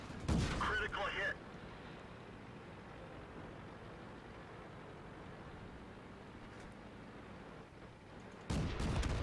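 A tank cannon fires in World of Tanks, taken from a hill position by an M2 Light Tank: a loud blast opens, then a steady low engine rumble runs until a second heavy report bursts near the end.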